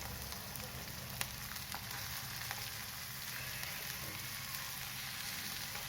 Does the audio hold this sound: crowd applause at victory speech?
no